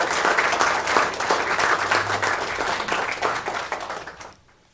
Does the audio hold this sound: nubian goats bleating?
no